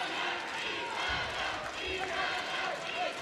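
Crowd cheering and roaring steadily at a World Taekwondo Championships -74kg final in Manchester, a dense, continuous wall of voices from a large arena audience throughout.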